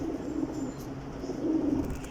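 A desi pigeon hen coos softly in a low, rolling murmur that repeats over a steady background hush.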